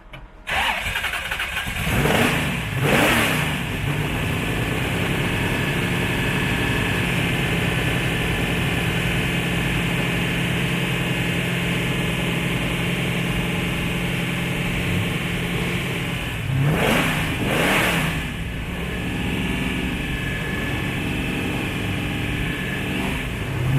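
A replica rally car's engine cranks and fires, then runs at a rough, loud idle with two sharp revs, one near the start and one later, heard close and alone.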